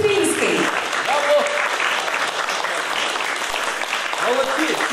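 Loud, sustained applause fills a town house of culture for orchestra conductors at an orchestra day concert, with voices calling out briefly over the crowd's clapping.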